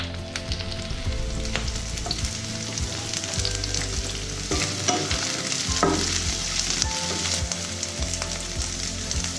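Capsicum sautes with chopped garlic and diced onion in a pan for restaurant-style Gobi Manchurian, a constant close sizzle with repeated scraping stirs.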